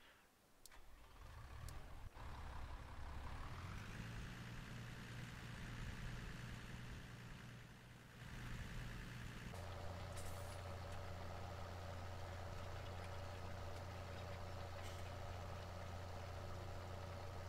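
A tractor engine in the video game Farming Simulator 17 rumbles loudly and continuously, its pitch climbing as it revs up, then settling into a deeper, steady drone partway through.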